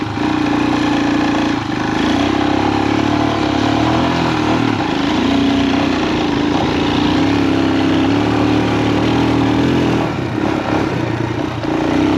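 Royal Enfield Himalayan 462 big bore motorcycle engine under way, a loud steady single-cylinder drone with low rumble and mechanical clatter, running continuously with no talk.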